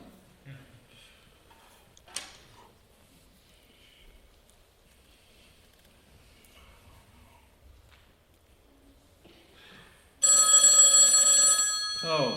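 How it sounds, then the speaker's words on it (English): A telephone rings loudly near the end during a church Christmas play, a bright electronic ring bursting in after quiet stage shuffling and footsteps. "Oh, finally a phone call."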